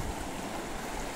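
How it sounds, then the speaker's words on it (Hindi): Fast river water rushing past a sandy riverbank near a waterfall, a steady broadband roar that fills the clip without pause, close and fairly loud, with no voices over it. "यहां से भी बहुत तेज पानी बह के जा रहा है।"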